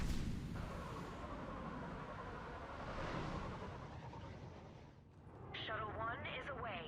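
Ion cannons firing in the Mass Effect 3 video game, rumbling booms and blasts layered over continuous battle noise, with a sharper burst near the end and in-game voices talking over it.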